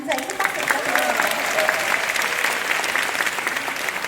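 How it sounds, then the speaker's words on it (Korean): Steady audience applause fills a hall at a Korean network marketing leaders' event, a dense even patter of many hands with some voices mixed in throughout. "감사히 큰 박수 부탁드립니다"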